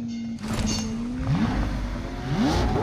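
A car engine in the video game BGMI revs up, with rising, swooping engine tones over a steady low rumble that climb repeatedly across a few seconds, fairly close.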